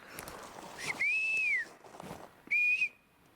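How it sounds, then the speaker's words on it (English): A person outdoors whistles two sustained rising-and-falling notes in short succession, the first longer than the second, loud and close against quiet rustling background. "Sorry, I got to whistle because I want them to know"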